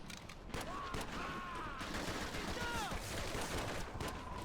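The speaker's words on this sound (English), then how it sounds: "And for once the pistol actually worked quite well there." Pistol gunfire in the game Medal of Honor: Heroes, with rapid bursts of shots packed among dense battle noise and whistling sounds, loud and continuous throughout.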